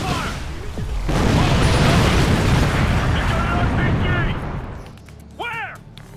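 Dense gunfire and a rolling explosion rumble for several seconds during a Ghost Recon Future Soldier combat mission, then it fades as shouted voices and a brief electronic chirp come through near the end.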